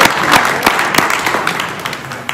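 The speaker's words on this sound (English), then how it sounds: "Go ahead, clap." A crowd at a write-in campaign rally for a Senate District candidate breaks into clapping. Dense, loud applause fills the whole stretch and slowly tapers off.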